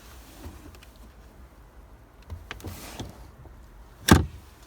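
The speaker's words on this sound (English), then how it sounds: "this little button here in the boot is how you flip the seats down" Rear seat of a 2018 VW Tiguan released by a button in the boot, with quiet clicks and a soft mechanical movement, then a sharp thud as the seat drops, with no talking.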